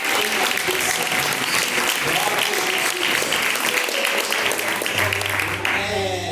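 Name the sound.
applause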